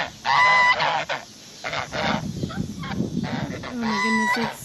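Farm geese honking loudly and close in repeated bursts, several birds calling over each other with short pauses, a voice briefly between calls.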